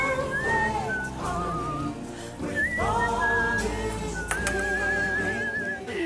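Someone whistles the melody of a song from an animated film, in clear gliding held notes with short breaks, close and prominent over a faint background murmur.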